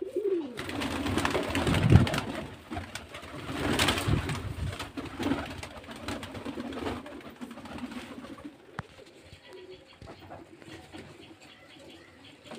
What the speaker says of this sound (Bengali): এই যে দেখুন পায়রার স্ট্যান্ডিং কলটি দেখুন